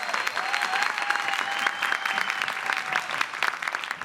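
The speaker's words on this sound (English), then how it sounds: "Another round of applause." An audience at the 2025 PitchBLACK Awards breaks into sustained, fairly loud applause, a dense crowd of clapping with a thin tonal sound running faintly beneath it.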